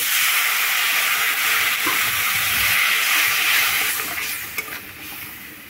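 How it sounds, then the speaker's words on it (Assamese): Cumin powder, coriander powder, salt and a little water fry in a pan with a steady close hiss and sizzle, softening toward the end, with no talking. "এইটো অকণমান পানীখিনি শুকুৱালৈকে ভাজিম"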